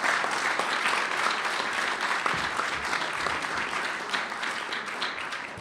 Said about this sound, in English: How about a round of applause for our speaker today?